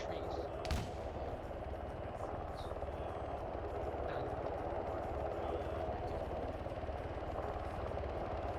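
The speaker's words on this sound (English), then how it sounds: "Helicopter, helicopter." In a modern-day Afghanistan military game, a helicopter drones at a distance, a low, steady rotor rumble running throughout, with one sharp nearby shot early on and a few faint distant bangs.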